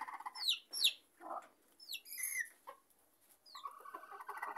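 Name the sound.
rooster clucking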